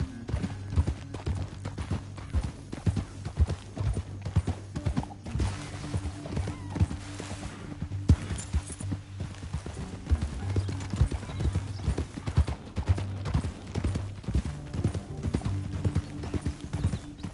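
Horse hooves clip-clopping steadily in Red Dead Redemption 2 on a canyon trail, a near, rhythmic walking gait with occasional whinnies and snorts, faint voices in the background.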